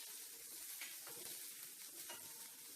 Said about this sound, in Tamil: இப்போ அதையும் சேர்த்து இதோட வறுத்துக்கலாம். இது நல்லா வறுபடட்டும்.